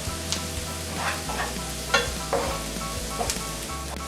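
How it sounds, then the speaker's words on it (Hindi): Ground spices, namely turmeric, red chili powder and garam masala, fry in oil for egg bhurji. The pan gives a close, steady sizzle with scattered scraping stirs of a spoon, and no one speaks. "मसाला 1 मिनट हमने भून लिया है"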